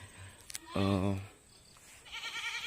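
A Javanese goat at a forest farm gives one loud, wavering bleat, with faint clicks before it, and someone speaks afterward.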